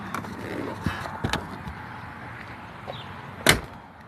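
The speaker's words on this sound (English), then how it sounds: "the door shut so much nicer than mine" A 1968 Oldsmobile Cutlass Supreme's door shuts with a solid thud, preceded by a few softer knocks and clicks against quiet background noise.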